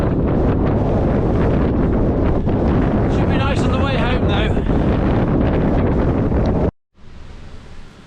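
Heavy wind buffeting a microphone while cycling roars continuously, loud and broadband, while someone speaks over it; it suddenly cuts out near the end, then returns quieter.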